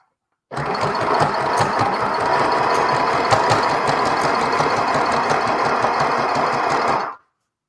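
A sewing machine stitching yarn hair onto a handmade fabric doll, a close, loud, continuous rapid mechanical chatter that starts suddenly, runs steadily for several seconds, then cuts off.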